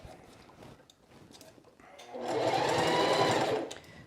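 Sewing machine basting a sleeve into a quilted jacket, a steady rapid whirring run of about a second and a half that starts after quiet rustling and stops abruptly, close and fairly loud.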